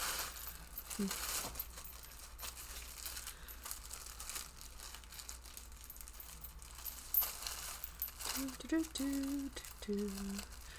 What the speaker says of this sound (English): Nothing is long as trying to unwrap something when you're being filmed.